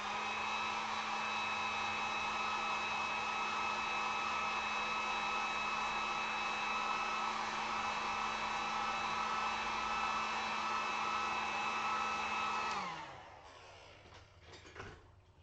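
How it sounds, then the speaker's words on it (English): A heat gun drying acrylic paint on a Mardi Gras alligator sign blows a steady, loud whooshing whir for about thirteen seconds, then cuts off, leaving faint handling clatter. "Let me hit this with the heat gun real quick."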